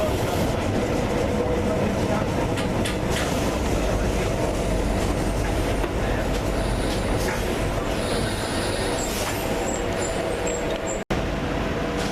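Metro train riding the rails on the way to the coast, a steady loud rumble of wheels and carriage noise throughout with faint high squeals, a brief dropout near the end.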